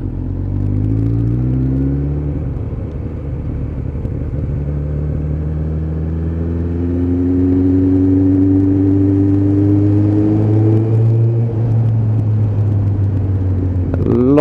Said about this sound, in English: Coming down through the box, the engine braking is actually holding the bike better.